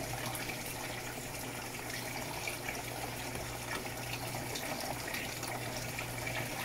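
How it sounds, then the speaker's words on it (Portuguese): Water pours steadily into an Electrolux top-loading washing machine (LEC14/LEJ14 type) as it fills, a constant broadband rush with a low hum underneath, close and even throughout with no voices. "foi completar a água"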